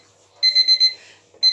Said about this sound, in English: that's just my alarm